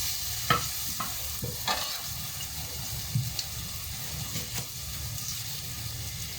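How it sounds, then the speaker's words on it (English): Onions sauté in a pan for a Calabrian bean and rice soup, a steady close sizzle broken by several sharp scrapes and stirs of a utensil against the pan. "we're just going to saute the onions"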